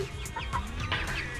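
A chicken clucks close by in short, uneven bursts over steady background noise, during a shopping trip to buy food for dinner.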